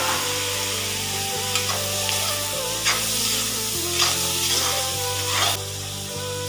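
Tomatoes and turmeric fry in a pan for tomato chutney, a steady loud sizzle with repeated stirring scrapes throughout, and no talking.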